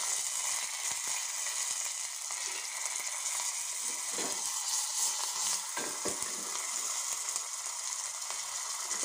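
Mustard seeds, green chillies and curry leaves sizzle in hot oil for a tadka, a loud continuous crackling fry with faint stirring, no voices.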